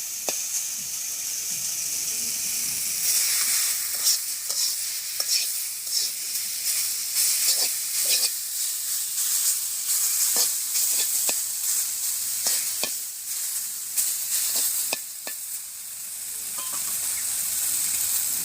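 Curry in a pan with its lid taken off sizzles steadily and hisses, broken by repeated scraping clicks of stirring and a light watery bubbling throughout.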